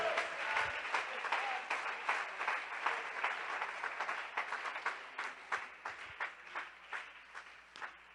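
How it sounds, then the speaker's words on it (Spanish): A church congregation applauds during a sermon, steady moderately distant clapping that ripples through the room for the whole stretch without pause. "Dele ese aplauso al Rey de Gloria."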